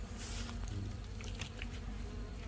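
A beekeeper's honeybee colony buzzes steadily and densely, a continuous close-up hum of many bees that holds level and unbroken throughout.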